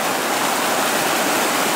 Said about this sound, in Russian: Течет раздольная река, покровки омывая берега,